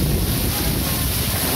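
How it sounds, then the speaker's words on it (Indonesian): Violent whirlwind gusts of a tornado in Polanharjo, Klaten, roaring loud and steady as broadband wind noise buffeting the microphone throughout, with no voices audible. "hentikan angin ini, ya Allah"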